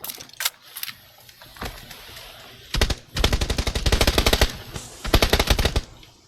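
Bursts of automatic gunfire in a Korean team battle video game: scattered single shots early, then loud, rapid sustained volleys in two long strings with brief gaps between them, no talk.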